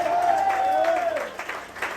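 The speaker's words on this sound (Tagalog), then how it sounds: "Tingnan nyo, pati mga baguhan, pumalakpak na din." Church congregation, newcomers included, clapping together at a preaching service, sustained applause with a voice talking over the start, fairly loud and continuous.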